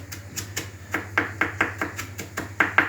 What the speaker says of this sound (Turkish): Sarımsağı da kıydık.